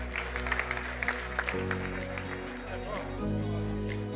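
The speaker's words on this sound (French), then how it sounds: "on peut faire des applaudissements pour les 20 ans, s'il vous plaît" Audience at a supply chain directors' gala clapping, with scattered claps over music and voices, settling into a steadier wash of applause toward the end.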